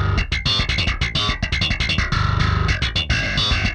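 An electric bass played through a distortion plugin with grit, chugging in quick repeated notes with a gritty, fuzzy edge, loud and up front with no talk.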